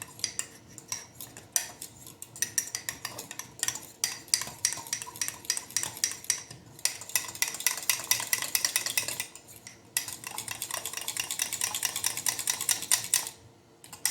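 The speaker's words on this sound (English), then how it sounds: "And I'm going to stir it all in there." Utensil scraping and clinking against a pot while chicken and egg noodle mixture is stirred, steady busy clatter in close bursts with a couple of brief pauses, no talking.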